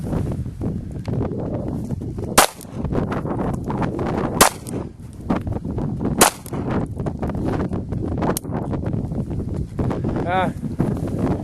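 Ruger LCP pistol shots outdoors in snowy, windy conditions, four sharp cracks spaced roughly two seconds apart, with wind noise and people talking in between.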